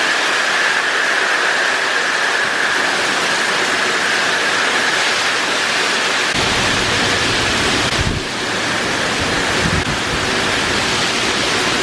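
Roaring, rushing Hurricane Irma wind with heavy sideways-driving rain, a dense continuous wash of noise, buffeting the microphone with a deeper gusty rumble partway through.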